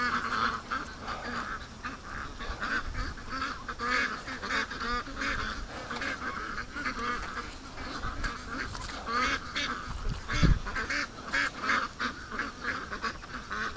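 Ducks gathered in a big circle on a lake at the mouth of a creek quack and honk continuously at moderate distance, a busy overlapping chorus of calls with one louder burst near the end.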